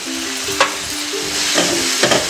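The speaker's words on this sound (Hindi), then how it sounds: "अब हम आलू डालेंगे" Potato pieces frying in hot masala for a drumstick (sahjan) curry, a steady sizzle broken by a few sharp spoon-scraping stirs, close and fairly loud with no talking.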